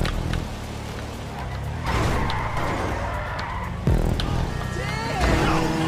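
A buggy driven along a road in the GTA video game, its engine droning steadily with bursts of tire skidding and revving, loud and continuous throughout.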